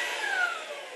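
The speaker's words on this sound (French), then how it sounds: "C'est rien, c'est mon mari qui s'amuse avec l'aspirateur." A household vacuum cleaner runs steadily close by in a home during an embroidery session, a broad constant whine with a faint shifting tone, alone with no talking.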